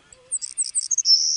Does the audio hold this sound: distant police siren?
no